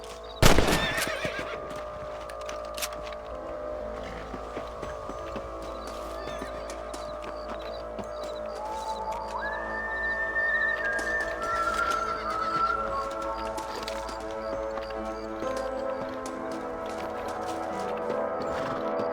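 A horse whinnies loudly at the start, followed by steady hoofbeats and a second neigh amid the ambient soundscape of the game Red Dead Redemption.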